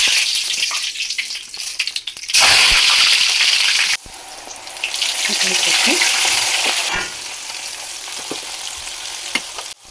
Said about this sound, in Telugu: కరివేపాకు నూనెలో వేయించుకుందాం.